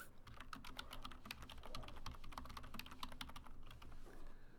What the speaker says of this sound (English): I could start, you know, typing some of this stuff in